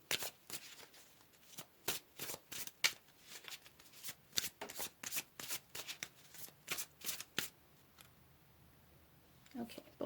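Tarot cards being shuffled by hand in rapid, crisp riffling bursts, close up, with a brief pause near the end before the shuffling resumes.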